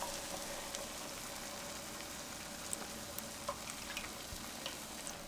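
Two cups of heavy cream cook down in a pan for a keto noodle sauce, giving a quiet, steady sizzle with a few faint ticks and stirring clicks.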